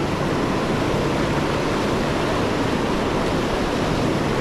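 River water flowing during a stormy fishing day, a steady, dense rushing wash with no breaks, moderately loud and continuous.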